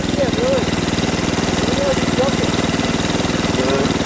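A motorcycle engine with a leaking radiator idles close by in a rough, even pulsing rhythm, while people talk over it.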